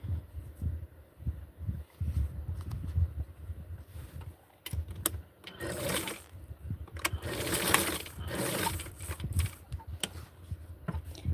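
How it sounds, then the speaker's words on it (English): A sewing machine stitches along the edge of fabric for a doll's mod dress, its quick mechanical whirring rattle coming in uneven bursts and pauses, loudest through the middle stretch, close and clear with no talking. "So this part is the edge of the fabric, so I'm going to sew it from here."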